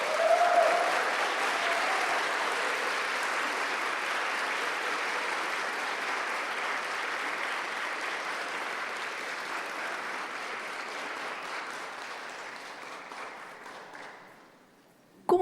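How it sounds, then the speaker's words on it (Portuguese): Sustained applause from a crowd, steady and full for many seconds before fading out near the end. "Palmas para a Rosita, gente."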